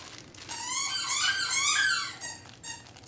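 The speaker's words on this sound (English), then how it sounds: "I don't even know if you guys can hear me over the loud squeaking." A plush dog toy with crinkle material squeaks loudly and repeatedly, a series of high, wavering squeals that rise and fall in quick succession with no talking, then trails off into brief softer squeaks.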